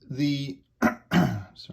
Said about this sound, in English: there is that cough again